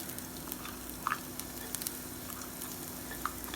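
Garlic and ginger frying in hot oil in a pan for shrimp fried rice: a steady, close sizzle with a few soft clicks and stirring taps, and no voices.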